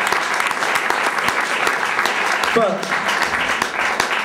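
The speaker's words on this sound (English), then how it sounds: "So I think you just give them another round of applause." Audience applause for a performance by college students, dense steady clapping filling the room, with a brief spoken word breaking through near the end.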